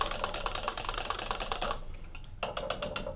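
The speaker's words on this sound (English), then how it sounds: "I'm going to transition over to my whisk just to get it nice and smooth" A wire whisk beats veggie burger aioli smooth in a bowl. Rapid, close, rhythmic ticking clicks pause briefly near the end and then resume, with no talking.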